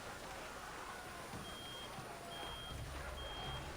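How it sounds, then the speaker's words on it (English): An alarm in the video game Reverse: 1999 gives three long, evenly spaced high beeps, faint over a steady rumbling hum of shaking machinery. "What's that sound? Some kind of alarm?"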